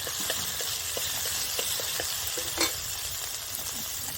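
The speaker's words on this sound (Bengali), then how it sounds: "এইখানে দেখুন ভেজে নেব মশলাটা" Ground spice paste with chilli powder and salt fries in a pan, a steady dense sizzle running throughout with light clicks of a spatula stirring close by.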